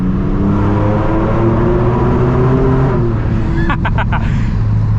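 A Ford Raptor pickup with an aftermarket exhaust rumbles and revs inside a tunnel, a loud droning engine note that rises and falls with echo, then a few quick sharp pops near the end.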